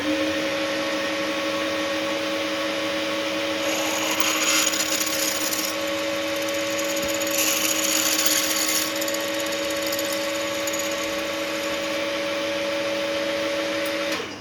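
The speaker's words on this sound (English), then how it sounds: "I'm following up with a 5/16 of an inch drill bit here." A 5/16 inch drill bit bores into a DIY piston on a lathe or mill, giving a steady, loud mechanical whine and hum throughout, with brief surges of cutting noise partway through and no talking.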